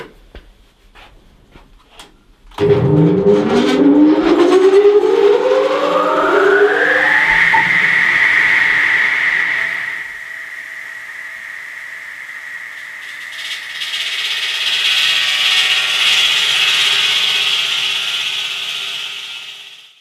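A construction block saw powers up with a rising whine and cuts into fieldstone, a loud, sustained, high grinding tone that dips in the middle and then returns.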